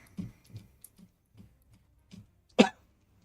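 Several soft, muffled coughs and throat sounds spaced out over a few seconds, ending in one sharper, louder cough up close.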